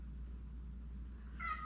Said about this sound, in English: I'm not sure if you can hear Harley meowing